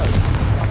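A Confringo fire spell bursts in Hogwarts Legacy, a loud, dense booming explosion with heavy low rumble sustained across a short moment, no talking.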